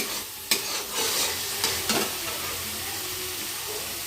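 Spice masala with peas and boiled eggs frying in a pan, a continuous close sizzle broken by a few sharp scraping stir strokes, with no voices.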